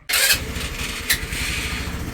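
A 2021 Icebear 150cc scooter engine cranks and catches after an oil change, then settles into a steady, rumbling idle with a brief rev near the middle; close and fairly loud.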